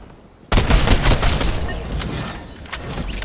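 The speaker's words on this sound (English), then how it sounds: "He's shooting at me." Enemy gunfire in the Fortnite battle royale video game bursts in abruptly and loud, a dense rapid volley that keeps rattling on for several seconds with one sharper crack near the end.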